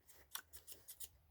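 Scissors snip through fabric in about six quick, crisp, close cuts in a steady rhythm, each a short bright shearing sound, with quiet gaps between and no talking.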